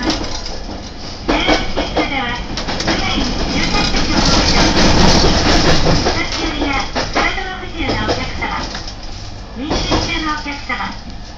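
A train rumbles steadily as it pulls away along the elevated track at Kumamoto Station, Japan, with wheel clatter and rattling carriages, while a voice makes a spoken announcement over the noise.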